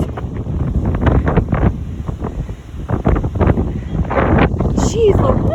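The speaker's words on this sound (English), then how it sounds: "Oh my gosh, so windy, you probably can't even hear me." Strong wind buffets the microphone outdoors before a storm, a loud continuous rumbling roar with gusts, while a person talks underneath it.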